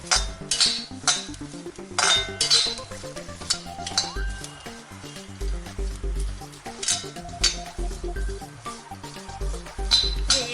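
A spoon stirs dried anchovy chutney in a hot pan, scraping and clinking against the metal in uneven bursts over a soft, steady sizzle, close and fairly loud.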